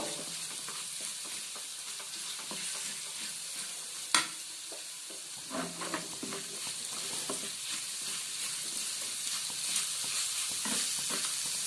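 Frying in a pan for chicken patisapta ahead of adding chicken mince gives a continuous crackling sizzle, with occasional stirring scrapes and one sharp knock of the utensil against the pan.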